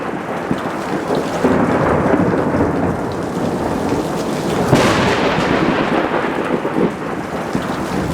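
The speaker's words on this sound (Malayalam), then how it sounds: "ഓ കാലം തെറ്റുള്ള മഴ വീത്താണല്ലോ." Heavy rain pours steadily while thunder rumbles through a storm, a dense, loud wash of sound with a brief swell near the middle and no voices.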